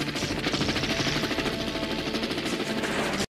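Rapid, continuous bursts of automatic gunfire rattle loudly and evenly for a few seconds, then stop abruptly.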